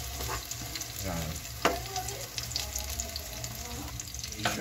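Sliced eggplant sizzles in a frying pan with a steady crackle close up, broken by a few louder clinks and stirring scrapes, with no talking.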